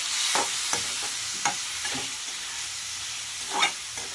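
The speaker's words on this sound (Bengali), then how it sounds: "এটাকে আমি ভালো করে কষিয়ে নেব" Rohu fish curry masala sautéing in a pan, a steady close sizzle and fry with intermittent scrapes and stirs of a spoon across the pan, no voices.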